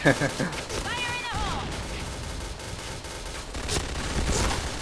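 The White Tiger gun in the shooter game Point Blank fires rapid bursts of gunfire, sharp and close, clustered at the start and again near the end, with someone talking over the shots.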